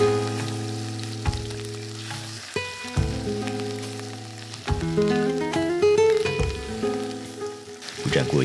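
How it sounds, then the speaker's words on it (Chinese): Cleaned fish bones and a fish head frying in a little hot oil in a grey FIKA non-stick pan give a steady, close sizzle with occasional crackles, while soft tonal music plays underneath. "在锅中倒入少许油，等油热了之后，把处理干净的鱼骨和鱼头放入锅中"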